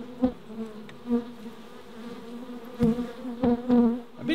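Honey bees buzzing around a top bar fridge hive, a steady close drone with sharper buzzes as single bees pass near.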